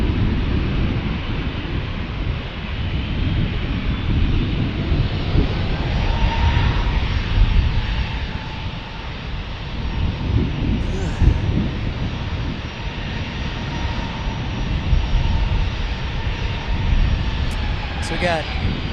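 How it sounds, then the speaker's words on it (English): A steady airliner engine roar from the single runway at San Diego airport, swelling and holding loud over wind noise while a person talks over it. "5 departures lined up going to San Jose, Phoenix, Phoenix, Las Vegas, San Francisco."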